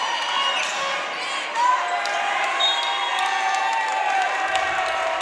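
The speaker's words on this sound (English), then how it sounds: "You can hear the cheers from the crowd." An indoor crowd at an under-15 boys' basketball final keeps up a steady roar of cheering and chatter, with sharp squeaks and ball thumps scattered through it and an announcer talking over the noise.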